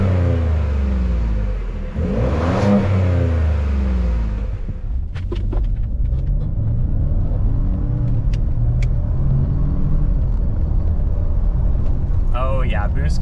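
Ford F-150 pickup with a 3.5 EcoBoost engine, revving loudly from idle with a sharp rise and fall in pitch, then settling back to a steady, rumbling idle; a voice speaks briefly over the engine.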